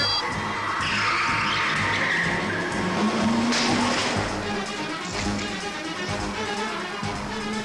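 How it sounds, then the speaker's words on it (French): A sports car skids around a corner, its tires squealing loudly in a rising, sustained screech over a roaring engine, with the skid swelling to a peak midway before the car rushes on under continuous road noise. "On dirait une voiture de sport."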